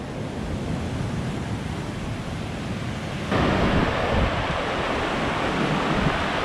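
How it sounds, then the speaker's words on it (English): Ocean waves surging against the shore of an island beneath a cliff and headland, a continuous broadband wash that grows louder and rougher midway, with wind buffeting the microphone. "we're going to get belted by this wave"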